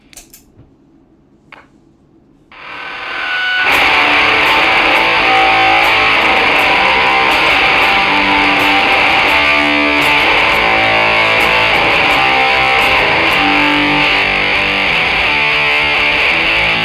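Electric guitar played through a Jet 70 into a Microsynth pedal, bursting in after a few quiet picked notes with a huge, sustained, shimmering wall of synth-like chorus tone that rings on loud and dense.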